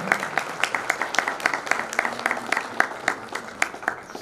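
An audience at an e-commerce awards event applauds an award recipient, a moderately sized crowd clapping steadily with distinct individual claps audible throughout.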